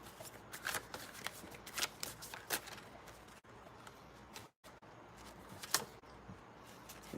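Tarot cards shuffled by hand in a steady run of crisp riffling bursts with soft papery slides between them, close and fairly quiet, with no talking.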